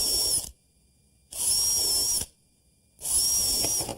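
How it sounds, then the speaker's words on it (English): A power drill bores a counterbore into wood for recessed screw heads, running in three whining bursts separated by short silences, loud and close. "Now this line that I'm drawing here, Steve, is where I want to drill a counterbore because I want the screw heads to be slightly recessed"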